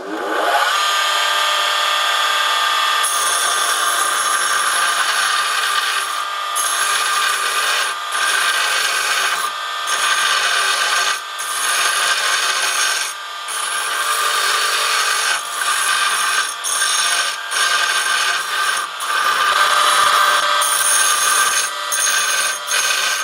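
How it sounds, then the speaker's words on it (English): Large drill bit being reground on a grinder: a loud, continuous high grinding whine broken by short pauses as the bit is lifted and pressed back against the wheel. "this is the biggest drill I've ever tried to regrind"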